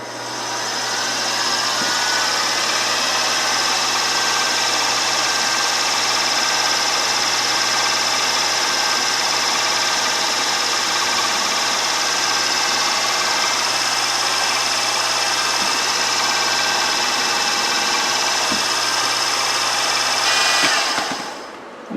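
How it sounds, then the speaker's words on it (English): A drill bit grinds steadily into a metal crank with a continuous whirring drone that runs close and unbroken for about twenty seconds, then cuts off abruptly at the end. "So once again, let me get another drill bit and we'll continue with this."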